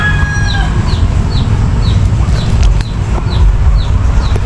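Chickens and ducks kept on a farm sound off amid loud low rumbling noise, with a short series of repeated bird calls heard through the racket.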